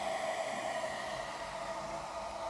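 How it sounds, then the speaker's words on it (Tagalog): A built-in cooling blower inside an aluminum box housing a modified TYT TH-UV8000D crossband radio repeater gives a steady, airy whir that stays constant and fairly quiet, with no voices. "Kasi may built-in blower yan, oh."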